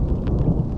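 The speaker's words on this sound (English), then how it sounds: "So that storm is definitely starting to take hold." Thunder rumbles low and heavy during a storm over a dam, with rain noise blended in through a loud, continuous wash.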